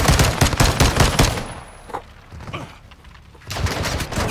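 Rapid automatic gunfire in Call of Duty: Modern Warfare 2, a loud close burst of repeating shots, then a lull with scattered single cracks before another burst of fire resumes.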